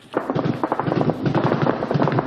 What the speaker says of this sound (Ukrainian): стріляють, знову свистять кулі